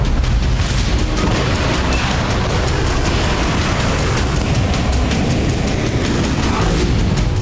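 Heavy Russian army bombardment of Ukrainian positions in Kherson produces a loud, continuous roaring rumble with dense, overlapping booms and no clear gaps.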